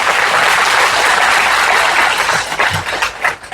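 An audience bursts into dense, loud clapping that holds steady for a few seconds, then thins out and fades near the end.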